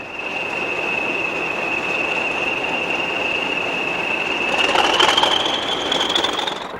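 A British Rail Class 40 diesel locomotive hauls a fully fitted freight train past at Scremiston in the 1970s, a steady rumble with a sustained high metallic squeal and rising wheel noise as the wagons pass, heard outdoors at a distance.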